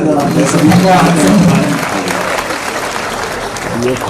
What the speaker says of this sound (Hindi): बताइए ताली वाली बजाओ मुझे।